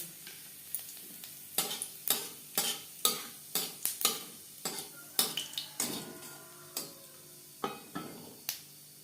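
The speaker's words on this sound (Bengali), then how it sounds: "কড়াইতে আবারও তেল দিয়েছি ফোড়নে দিয়ে দিলাম একটা শুকনো লঙ্কা" Dried red chili and whole cumin seeds fry in oil in a wok, a soft sizzle broken by a dozen or so sharp, rhythmic scrapes of stirring, quiet and close with no talk.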